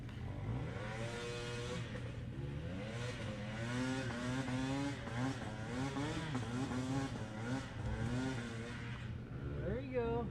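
A hard enduro motorcycle's engine holds high, wavering RPMs for the whole stretch as it crawls up a steep hill on a trail at Doe Mountain Recreational Area, loud and close with no talk.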